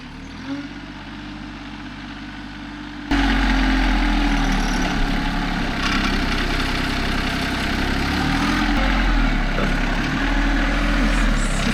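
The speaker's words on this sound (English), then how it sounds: "It'd be interesting to see if this little tractor, Alyssa, can move this beast." A small tractor engine idles quietly, then revs up suddenly to a louder, steady chugging drone that continues to the end.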